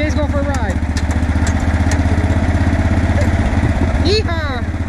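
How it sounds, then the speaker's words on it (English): A steady, chugging engine runs close by at an even idle, with a brief rising whine near the end and voices faintly underneath. "We're going for tractor rides."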